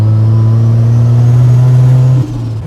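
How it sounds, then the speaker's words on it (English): Mazda RX7 with a muffler revving hard uphill under load with turbo spool, a loud close droning engine tone held steady, then dropping suddenly as the revs fall near the end. "Currently going uphill, so there'll be a lot of load and turbo spool"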